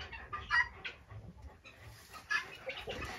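Bantam chickens clucking close by in spring, several soft irregular clucks and murmurs overlapping in short bursts, with no talking.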